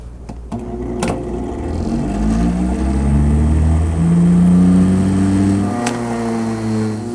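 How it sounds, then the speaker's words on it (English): Lab centrifuge spinning blood sample tubes, its motor whine climbing and sliding in pitch as it spins up, loud and close with a click or two, no talking. "Lock the lid and close the centrifuge."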